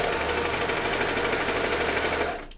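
A sewing machine sews pants in one continuous loud run with a rapid, steady mechanical pulse, stopping just before the end.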